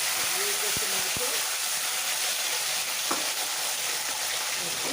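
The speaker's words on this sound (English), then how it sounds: "You generally have to fry very well the tomato." Tomato frying with green chilies in a pan, a steady sizzle and hiss throughout with a few short stirring knocks near the start, no talk over it.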